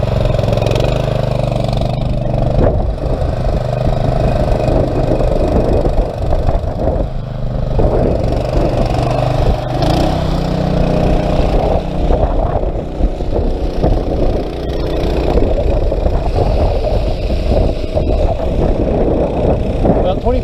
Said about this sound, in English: Let's go ahead and ramp the throttle up.